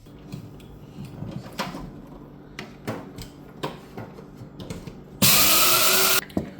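Beans whirr in an electric grinder in a loud, steady burst lasting about a second. Before it come scattered knocks, clatters and handling sounds of kitchen containers close by.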